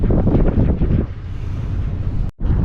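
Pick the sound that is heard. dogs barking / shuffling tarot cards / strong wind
strong wind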